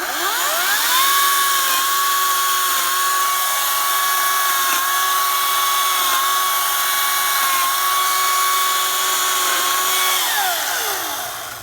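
A Ryobi 40V 14-inch electric chainsaw with a new blade cuts limbs from a Christmas tree, a loud steady high-pitched motor whine that spins up, holds through the cut for about nine seconds, then winds down.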